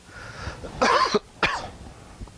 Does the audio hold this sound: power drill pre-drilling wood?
no